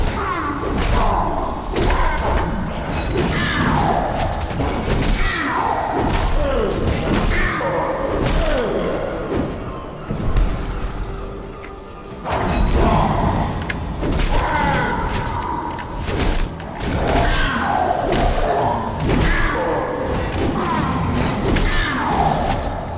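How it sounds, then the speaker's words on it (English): Rocket launcher fire in The Secret World video game, a dense barrage of heavy thumps and booming blasts packed together across the whole stretch, loud and close, with some voices and game chatter mixed underneath. "Let's shoot him with a rocket launcher just to get things started."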